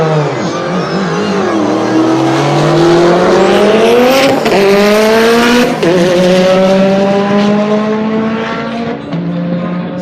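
A Dodge Hellcat at a night drag strip at Rocky Mountain Speedway, its engine roaring loud and close with rising revs and shifts, plus tire squeal, continuous throughout.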